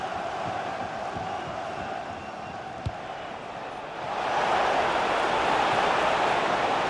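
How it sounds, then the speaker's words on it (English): Stadium crowd noise from a football video game, a steady roar that swells louder about two-thirds through, with a brief thud partway in. "Well, the crowd are doing their bit."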